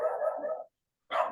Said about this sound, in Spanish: Se escuchan mucho los perros atrás.